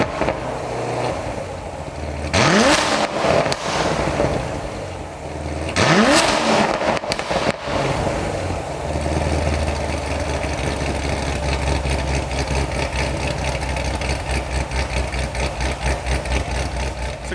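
Modified Chevrolet C7 Corvette Grand Sport V8 engine, close by, blipping through two sharp revs early on, then settling into a loud, steady, throbbing idle.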